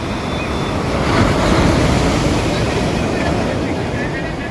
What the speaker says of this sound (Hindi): ये समुंदर के अंदर मची हुई वो हलचल है जो हर बार बिछड़ती तो है मगर वापस मिल जाती है